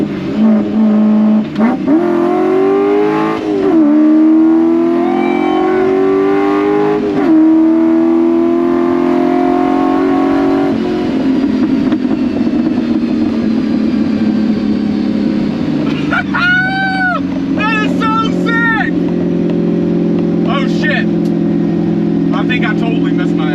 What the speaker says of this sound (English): Because this car has a side exit exhaust, it echoes off the walls of the interstate.